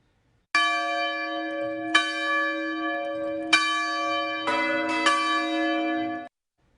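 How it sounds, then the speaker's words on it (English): Church bells at Zion Church in Appleton, Wisconsin ring out clearly, with several strikes whose long, rich tones overlap and hum on, loud and close, no voices. "When the bells ring at Zion Church"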